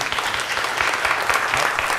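Church congregation applauding during an Easter Sunday worship service, a steady, dense clapping that fills the room without pause, with a voice barely audible beneath it.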